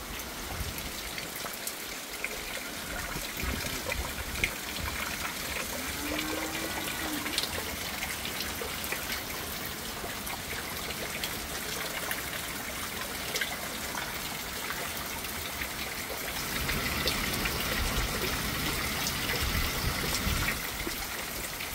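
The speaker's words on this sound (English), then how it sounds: "it has started raining again" Heavy rain from Hurricane Milton pours down steadily outdoors, a dense continuous hiss of drops on surfaces that swells louder toward the end.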